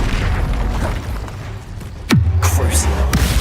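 An Incendio fire spell is cast in the game Hogwarts Legacy: a sharp whooshing burst lands about two seconds in, followed by a sustained low roar that stays loud until the end, over steady game background noise.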